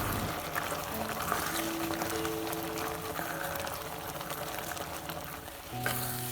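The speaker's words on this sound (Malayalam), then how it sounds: "ഈ തിളയ്ക്കുന്ന കൂട്ടുകറിയുടെ കഷ്ണത്തിലേക്ക് ഇട്ട് കൊടുത്ത് നമുക്ക് നല്ലപോലെ ഒന്ന് മിക്സ് ചെയ്തെടുക്കാം." Kerala koottukari for an Onam sadhya bubbling in the pot as ground coconut paste is stirred in, a steady close sizzle and bubbling with occasional stirring scrapes and no talking.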